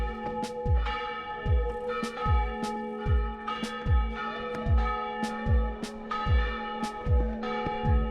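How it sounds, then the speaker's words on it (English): Church bells of the Church of Sant Pere Apòstol on the Costa Daurada ring in a steady run of resonant strikes, roughly two per second, heard from a moderate distance outdoors. "you can hear the bells there of the Church of San Pere de Apostol."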